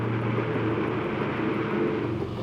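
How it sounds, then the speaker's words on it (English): Bristol Freighter twin-engine propeller transport plane droning steadily, a sustained low engine hum at moderate distance with no break in the sound. "The Bristol freighter."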